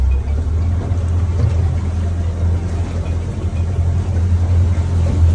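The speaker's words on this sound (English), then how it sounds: "And now we just bring the revs up." An engine runs loud and steady, its deep low hum held at raised revs for the whole stretch, with no talking over it.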